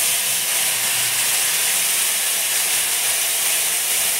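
Sunrise mustard powder paste soaked with salt, added to hot oil in a pan for a hilsa curry, giving a steady, loud, continuous hissing sizzle.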